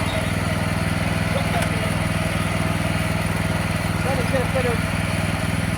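Small petrol engine on a garden machine runs steadily close by, a continuous buzzing drone, while someone talks over it.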